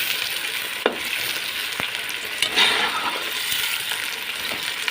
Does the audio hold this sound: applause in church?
no